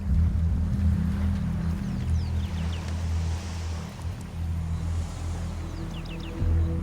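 A steady low speedboat engine drone hums throughout on a river, with faint wind and high chirps in the background.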